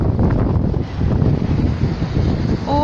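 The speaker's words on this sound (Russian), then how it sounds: "Правда, здесь такой сильный ветер." Strong wind sweeping across a town square, buffeting the microphone in loud, continuous gusts that rise and fall throughout, with no talking.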